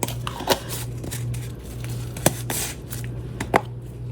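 A stick stirs and scrapes resin in a small container, producing soft squishy swirling sounds with a few sharp taps against the sides, close and fairly quiet over a faint steady hum.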